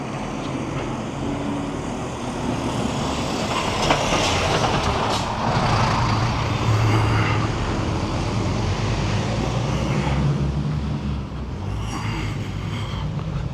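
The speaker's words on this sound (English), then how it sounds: "It's one of these eco buses, half electric." A half-electric eco bus passes on a street in Tenerife, giving a loud, continuous broadband rumble and whoosh that swells in the middle and eases off, with traffic noise around and no voices.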